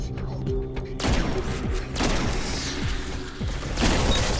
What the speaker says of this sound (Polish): Wow, na jeden strzał go zabiło.